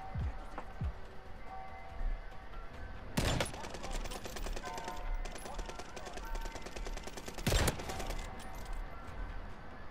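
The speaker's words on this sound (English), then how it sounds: "He's being shot at by another team." Rapid automatic gunfire in the video game Call of Duty Warzone on the Fortune's Keep map, dense bursts with a few sharper louder shots, continuous against game ambience.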